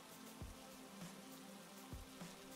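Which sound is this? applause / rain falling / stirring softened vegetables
rain falling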